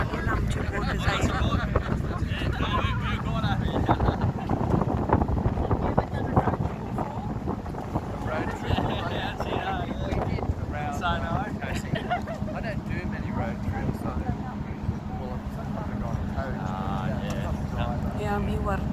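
A ferry crosses Sydney Harbour beneath the Harbour Bridge, with a steady low rumble of engine and water blended with heavy wind buffeting the microphone, and voices talking over it throughout.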